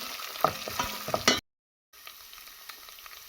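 Tomato paste frying in oil with garlic and pepper for a spaghetti sauce with kidney, a steady close sizzle broken by scraping stir strokes, then a sudden cut to silence before softer frying resumes.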